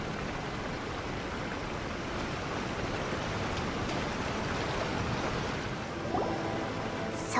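A waterfall in the Genshin Impact video game rushes in a soft, steady wash of falling water, faint and unbroken from start to finish.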